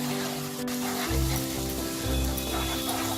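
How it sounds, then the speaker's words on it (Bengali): Chili powder and turmeric masala sizzles and fries in hot oil for a Kolkata-style prawn biryani, a steady close hiss with low stirring thumps under it and no talk. "লঙ্কা গুঁড়ো দেব আর অল্প একটু হলুদ গুঁড়ো দেব দিয়ে আমি মশলাটাকে এবার পুরোপুরি কষিয়ে নেব।"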